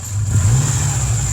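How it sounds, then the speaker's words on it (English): A Subaru engine revs during a compression check, giving a steady, loud low drone that rises slightly and holds for a moment, close by with no talk. "Alright, rev it."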